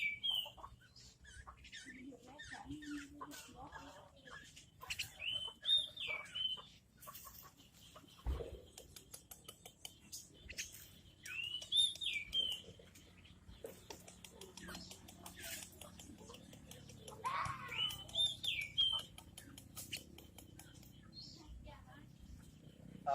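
A caged pet bird, hand-raised from a chick, gives repeated short whistled chirps and trills at close range, with rustling and a faint voice in the background.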